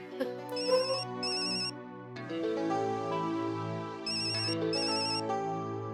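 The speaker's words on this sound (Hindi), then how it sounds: "किसका फोन है?" A mobile phone plays a bright melodic ringtone in a household scene from the Indian TV sitcom Taarak Mehta Ka Ooltah Chashmah, the electronic tune repeating steadily and loudly with no talking.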